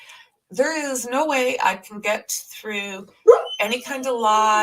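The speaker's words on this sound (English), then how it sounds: "that's my dog, she's singing for a cookie again" A pet dog howls in long, wavering tones for a cookie, its singing rising and falling beneath a person's steady talk close by.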